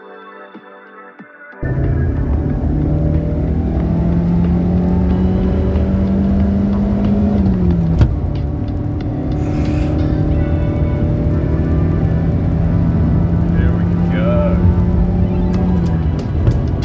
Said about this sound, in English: the car's back together and she is running beautifully